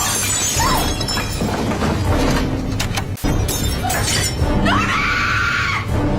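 A woman screams in a horror movie scene featuring a well-known actress, shrill rising cries over crashing, shattering glass and thuds, the scream returning louder near the end amid tense score.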